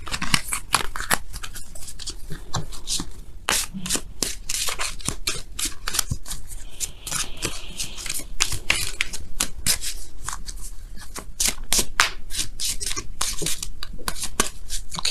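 Oracle and tarot cards are shuffled by hand in a steady, continuous stream of close papery rubbing and riffling for about fifteen seconds, with no talking.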